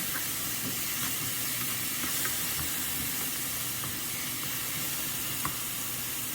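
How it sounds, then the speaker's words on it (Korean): King oyster mushrooms and shishito peppers stir-fry in a hot pan with a loud, unbroken hissing sizzle and a few faint clicks of stirring, close by with no talking. "새송이 버쳐서 이렇게 넣고 뒤져가면서 볶아주세요"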